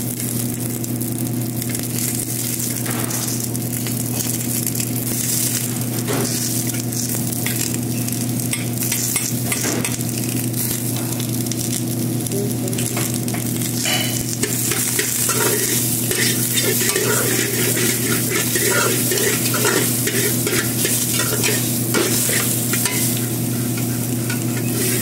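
Garlic fries in a pan for chicken tinola, making a loud, constant sizzle with frequent stirring scrapes and crackles, close and unbroken.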